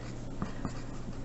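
A pen or pencil scratches across a paper map while a label is written, with a few faint, brief strokes over a low steady background hum.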